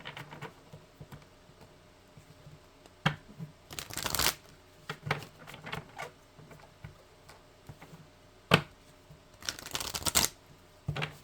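Oracle cards are shuffled by hand in a few quick, crisp riffling bursts separated by quieter handling taps and rustles, close to the listener.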